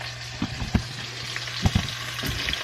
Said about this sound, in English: I'm throwing these in the pan over here